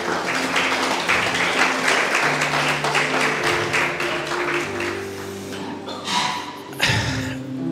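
A church congregation claps together during a service, a loud rhythmic patter of many hands over sustained musical tones, easing off toward the end with a couple of louder thumps.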